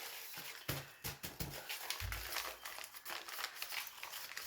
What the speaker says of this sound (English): So now we're going to fold this closed.